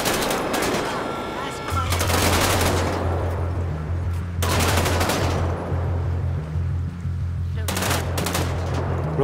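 Automatic gunfire in the GTA 5 zombie survival apocalypse mode, loud sustained bursts of machine-gun fire with a short pause, over a steady low game hum, with people talking in between.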